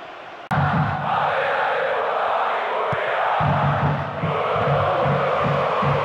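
A stadium crowd roars and applauds after a goal in a Real Madrid versus Fenerbahçe football match, a loud, sustained wash of cheering and clapping that swells in repeated waves.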